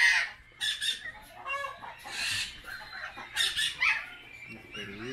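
Laying hens clucking at an eco farm in Sonora, a run of short, fairly close clucks and squawks alongside other chatter from the flock, with no one talking.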